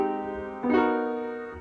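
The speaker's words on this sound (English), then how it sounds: "Here's some random major 7 chords." Major seventh chords played on an instrument, one sustained chord ringing before a second is struck just past the middle, both warm and close with no talking.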